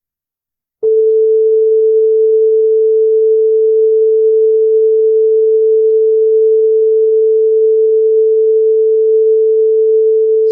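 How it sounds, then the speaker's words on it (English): A pure 440 hertz tone starts abruptly after a short silence and holds perfectly steady and loud, a single unwavering electronic pitch with nothing else around it. "Now let's play this first tone whose frequency is 440 hertz."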